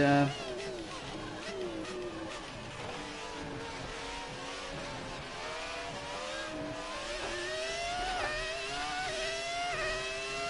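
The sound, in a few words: 2004 Ferrari race car engine in racing video game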